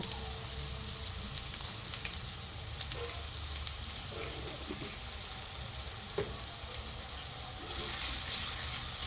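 Onions with a little salt sizzle and crackle steadily in a pan, a faint, continuous frying hiss with occasional soft stirring scrapes.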